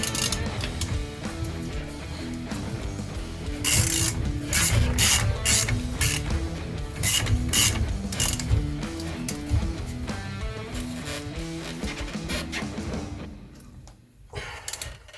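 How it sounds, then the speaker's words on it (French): A ratchet tightens the driveshaft nut on a Renault 4L during a driveshaft replacement, giving close, repeated bursts of mechanical clicking strokes in an uneven rhythm through the middle of the clip, with no talking. "Je vais resserrer l'écrou de cardan."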